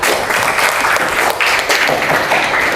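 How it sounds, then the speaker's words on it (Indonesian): Students in a classroom applaud a classmate in a short, close burst of steady, dense clapping that lasts the whole moment. "Beri tepuk tangan untuk Bintang."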